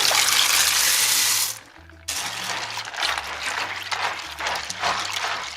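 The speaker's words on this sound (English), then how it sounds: "Add your hominy to some water" Water splashes and sloshes as hominy is poured into it, with a brief pause before more swishing and light clinks continue.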